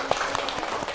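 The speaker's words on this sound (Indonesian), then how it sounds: "Silakan tepuk tangan" Applause in a microteaching classroom session, a steady wash of many hands clapping, close and continuous for the whole moment.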